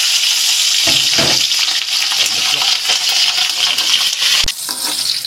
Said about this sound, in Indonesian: Kemudian ini untuk cabai merah rawit kita goreng.